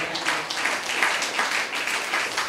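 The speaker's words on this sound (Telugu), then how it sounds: "చప్పట్లు కొట్టినావు సరి గట్టిగా" Congregation at a Sunday church service claps together in a steady, fairly faint patter of applause lasting a couple of seconds, with no speech over it.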